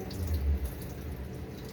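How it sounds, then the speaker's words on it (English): Hot water runs steadily from a faucet during a water heater repair, a continuous low rushing flow close by with no talk over it. "Hot water flowing."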